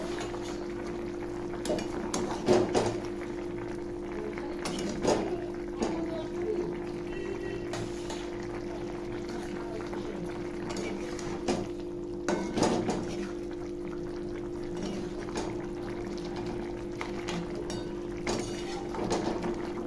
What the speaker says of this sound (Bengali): এবার আমি একে একে মাছগুলো ঝোলে দিয়ে দেবো